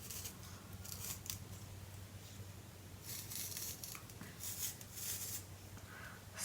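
Scissors or a blade cutting into a pine cone, heard as a few soft, crisp snips and crunches close by over a faint low hum, with no talking.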